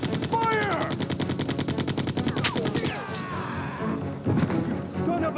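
Rapid video-game gunfire from Resident Evil 2 on the PS1, a dense, steady burst of shots running through most of the stretch, loud and close, with brief shouted voices and game music mixed in.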